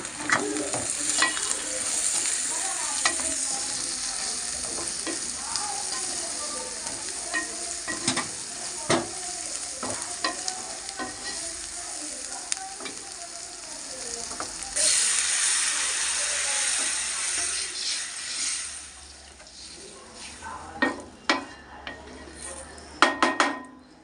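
Chili powder being stirred into a prawn punukulu curry in a pan, with steady sizzling, scraping spoon strokes and occasional clinks against the metal pan throughout, louder near the end.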